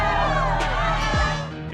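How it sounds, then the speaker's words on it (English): Loud crowd roar fills a basketball arena during an NBA Finals Game 6 between the Chicago Bulls and Utah Jazz in Salt Lake City's Delta Center, a sustained wash of cheering with whoops, a whistle-like tone and a brief sliding tone. "The crowd is going nuts."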